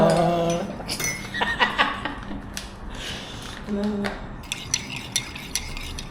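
A spoon stirs cranberry powder drink in a glass, clinking lightly against the sides in a quick run of taps, with voices talking over part of it.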